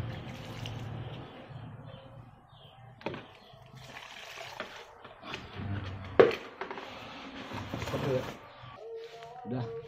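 Water poured onto a potted aglaonema plant in husk-mixed soil, irregular splashing and trickling in short bursts, fairly close, with a person talking between pours.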